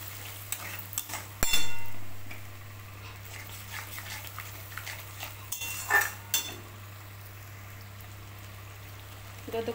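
Spice paste mixed with whisked sour curd frying in a pan for doi katla fish curry, a soft low sizzle with occasional clinks and scrapes of a utensil against the pan.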